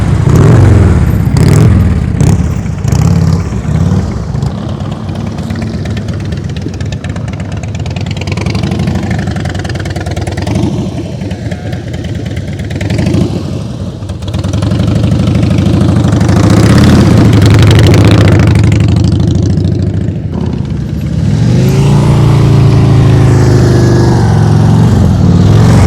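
A motorcycle engine idles and pulls at low revs during slow-speed riding practice, loud and close, rising and falling with gentle throttle changes across a long steady stretch.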